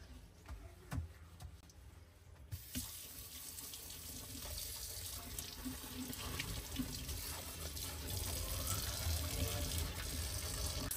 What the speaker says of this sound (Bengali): মাংস ধোয়ার জন্য বেসিনটা ভালোভাবে সাবান দিয়ে ধুয়ে নিব।